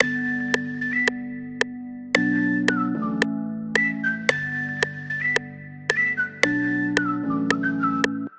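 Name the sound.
whistle sample in a beat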